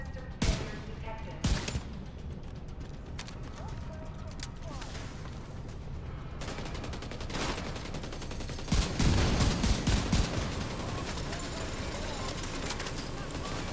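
Gunfire in a video game boss fight against the Iron Horse boss, with repeated shots and bursts over a dense, constant bed of game effects, growing louder and busier toward the end.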